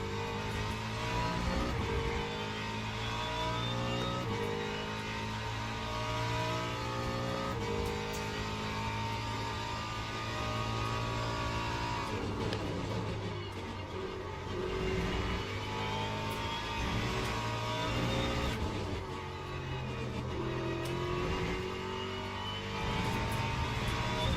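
Ferrari and LMP2 prototype race car engines in Le Mans Ultimate at Sebring, a steady loud multi-car roar with rising and falling pitch as gears shift, continuous throughout with no talking.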